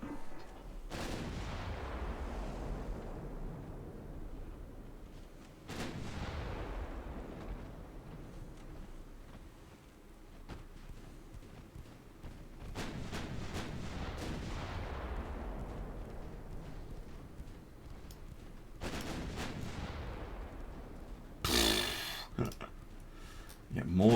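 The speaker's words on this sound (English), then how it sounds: "Destroyer firing a last set before she sinks." Guns fire from a destroyer in the naval game Ultimate Admiral Dreadnoughts. Several heavy booming shots come at spaced intervals, each with a long rumbling decay, and a sharper burst follows near the end.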